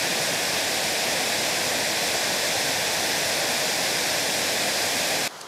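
Wadsworth Falls waterfall in a state park, a steady, loud broadband rush of falling water filling the whole span without a break, cutting out abruptly in the final moment.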